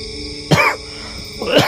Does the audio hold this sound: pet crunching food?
no